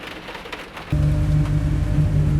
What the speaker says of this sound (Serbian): Malo kiša pada, upalimo turbo i onda radi brisač